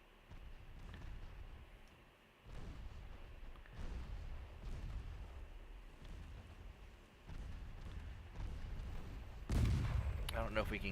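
Naval gunfire from small 3.9-inch guns in the warship game Ultimate Admiral Dreadnoughts: a series of heavy booming shots, roughly every two seconds, each with a rumbling tail, ending in a louder, sharper blast.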